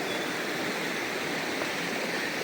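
Holy river water at Mount Kenya rushes in a steady, full, close wash of flowing water with no voices.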